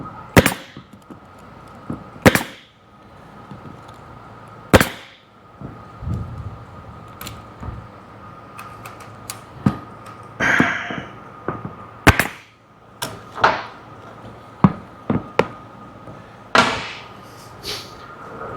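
A staple gun fires sharp, loud, close snaps while stapling vinyl onto a jet ski seat, spaced irregularly about one to two seconds apart, with quieter handling noises in between.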